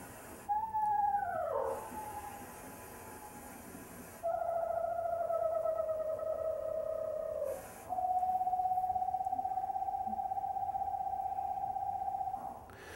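Owl calls played from a recorded tape, long sustained whistled hoots and whinnies, fairly faint, repeating alone in a steady tonal series with small pitch shifts.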